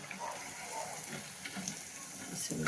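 Ridge gourd fritters deep frying in hot oil until golden brown, a soft continuous bubbling hiss heard close and fairly quiet, with a faint voice in the background.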